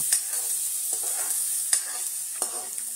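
Onion fries in hot oil with cumin and mustard seeds, a continuous close sizzle broken by a few sharp stirring clicks and spatters.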